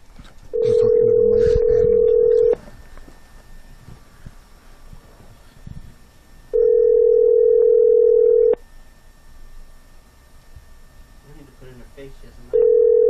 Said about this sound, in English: I'm dialing. It's dialing right now. It's going.